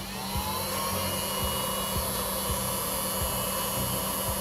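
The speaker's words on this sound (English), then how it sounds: "Not bad, for USB vacuum cleaner" A small $10 USB-powered vacuum cleaner runs continuously with a steady high-pitched motor whine and airy hiss, close and constant, with a faint low periodic ticking underneath and no speech.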